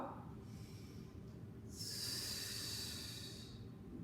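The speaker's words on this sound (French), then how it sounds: "Inspire. Et expire." A long, audible exhale during a Pilates exercise, a steady breathy hiss lasting a couple of seconds, close and fairly quiet, following a softer inhale.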